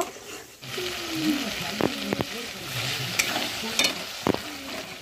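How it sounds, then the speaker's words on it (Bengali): Thick spice paste for mutton curry stir-fried in a pan, with a steady sizzle broken by sharp scraping strokes of a spoon or spatula, close and moderately loud. "মশলাটাকে 3 থেকে 4 মিনিট সময় নিয়ে কষিয়ে নেব।"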